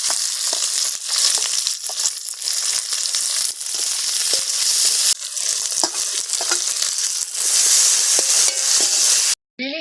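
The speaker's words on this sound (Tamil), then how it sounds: "வெங்காயம் பூண்டை பொறிஞ்சிட்டு அப்புறம் வெங்காயம் ரொம்ப நல்லா இருக்கும்" Onion and garlic frying in a pan during outdoor garden cooking, a loud continuous sizzle with scraping stirring strokes throughout, cutting out briefly near the end.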